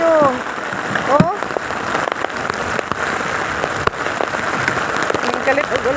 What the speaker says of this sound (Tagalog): Grabe ni ulan siya og ayo.